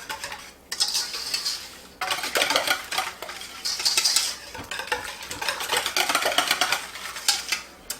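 Metal utensil stirring baking powder into dry ingredients in a bowl for a lemon curd pound cake, breaking up chunks; steady scraping and clinking strokes in repeated bursts with brief pauses, close and fairly loud, no talking.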